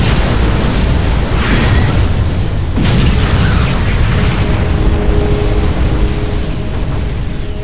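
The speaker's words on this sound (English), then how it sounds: "Kaboom!" A huge explosion destroys the Freeport 7 station in the Freelancer space game, a loud continuous roaring boom with a sharp crack partway through that fills the whole stretch without letting up.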